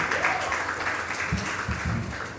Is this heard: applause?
yes